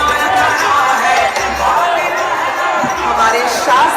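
A large crowd at a Narendra Modi rally gives off a dense, steady murmur of many voices, loud and close, with scattered shouts rising above the din.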